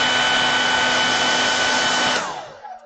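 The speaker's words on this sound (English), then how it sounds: "I'm going to get my hairdryer out real quick" A hairdryer blows steadily at close range to dry paint on small miniature paintings, giving a loud continuous whirring hiss that winds down and cuts off near the end, with no speech.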